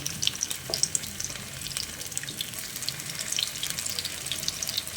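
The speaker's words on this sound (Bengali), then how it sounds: "অল্প অল্প করে কাবাবগুলো দিয়ে ভেজে নেব।" Soybean kebabs fry in shallow oil, giving a steady, fairly quiet hiss and crackle with scattered small pops throughout, no voices.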